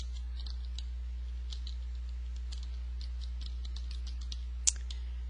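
Quick, light typing on a computer keyboard, with irregular soft clicks and one sharper key strike near the end over a steady low hum, with no voices.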